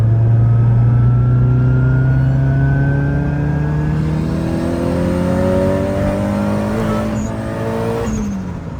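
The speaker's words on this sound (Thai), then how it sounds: "ตอนนี้เราก็ออกมาอยู่กับเจ้า 200คันเมื่อกี้ ขับโดยจันเบสคนเดิม" A Nissan 200SX engine revs steadily and climbs in pitch as the car accelerates, loud and close, with a brief dip and gear change near the end and no talking.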